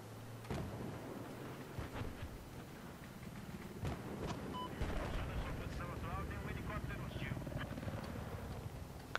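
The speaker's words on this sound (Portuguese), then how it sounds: "Helicóptero hostil." An enemy helicopter in the online video game Battlefield 4 roars as a dense, continuous rotor and engine rumble, broken by sharp explosive blasts and bursts of combat noise, with no voices.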